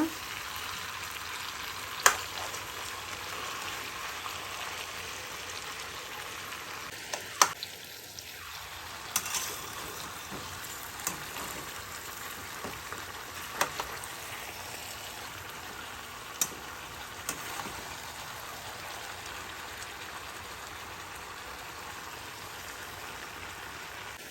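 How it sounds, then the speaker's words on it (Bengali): Labra, a Bengali mixed vegetable curry, frying in a pan while being stirred, a soft steady sizzle with scattered spoon knocks and scrapes, no talking. "এবার ভালোভাবে মিশিয়ে দেব"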